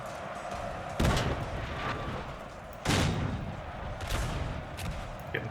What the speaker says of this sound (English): looks like he wants to punch those squares with his cannons.